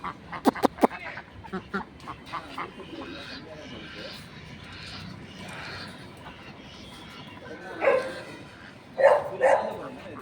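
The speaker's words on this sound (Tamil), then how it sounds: "அந்த பக்கமும் நிறைய வாத்துங்க இருக்குது" Ducks quack a few times near the end, after some sharp clicks and knocks, with people talking nearby at an outdoor animal park in Pondicherry.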